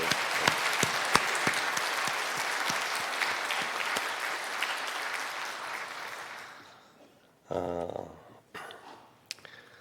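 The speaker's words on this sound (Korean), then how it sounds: "하나님께 영광의 박수와 서로를 위한 격려의 박수" A church congregation applauds in sustained clapping that gradually fades out after about six seconds. A speaker's voice follows briefly.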